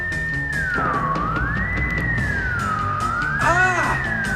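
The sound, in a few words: piercing ear-splitting sonic disruptor gadget sound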